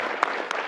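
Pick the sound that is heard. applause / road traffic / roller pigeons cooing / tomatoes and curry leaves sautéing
applause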